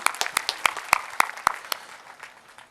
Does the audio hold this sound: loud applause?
yes